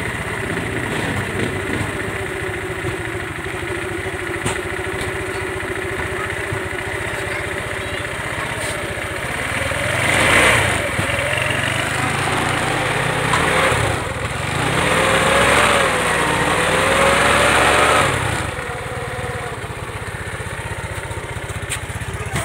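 A Motorstar Easy Ride 150 motorcycle engine idles steadily after being started for the first time in over seven years, with its revs rising and falling twice before settling back into a continuous close-up rumble.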